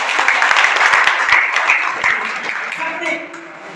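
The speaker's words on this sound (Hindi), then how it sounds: "एक बार जोरदार दोनों हाथ से तालियां" An audience at a motivational business seminar breaks into steady hand clapping, a dense rattle of many hands that slowly thins toward the end.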